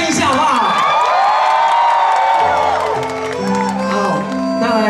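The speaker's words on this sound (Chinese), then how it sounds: "全场来点尖叫声一下好不好？" At a fundraising thank-you concert in Xinzhuang, the audience screams, whoops and cheers loudly as a dense crowd roar. It eases into sustained musical tones in the second half while shouting continues around it.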